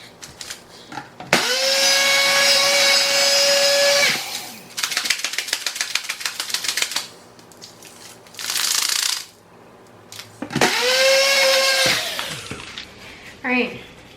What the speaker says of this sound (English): Blender didn't work.